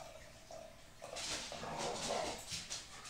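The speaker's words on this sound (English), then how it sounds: "My dogs are playing right next, right up the top of the steps. You can probably hear them." Dogs playing at the top of some stairs, heard as faint, distant yips, whimpers and scuffling in a quiet indoor room.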